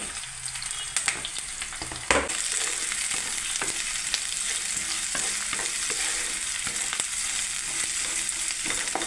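Onions and green chillies fry in a pan, making a steady sizzle. A spoon stirring against the metal scrapes and clinks through it, starting with a sharp clatter.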